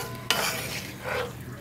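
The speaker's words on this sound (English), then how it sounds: "I'm just stirring it all up so that the corn can get that olive oil butter coating on it" A spoon scrapes sharply once through corn in a pan of olive oil and butter, then stirs steadily over a close, ongoing sizzle.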